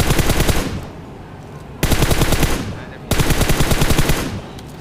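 Automatic gunfire in PUBG Mobile, three long bursts of rapid machine-gun shots, loud and close, separated by short pauses with faint tails between them.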